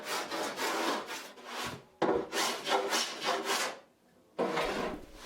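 Steel scraper with a slightly convex blade pulled in repeated rasping strokes across wood, stripping dried glue from a handmade ukulele; three bursts of close scraping separated by short pauses.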